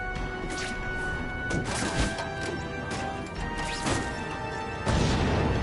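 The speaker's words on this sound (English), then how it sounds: "Friendly neighborhood fireworks." Fireworks exploding in The Amazing Spider-Man video game, a string of sharp cracking bursts spread over a few seconds, with a louder blast near the end, ringing over steady background tones.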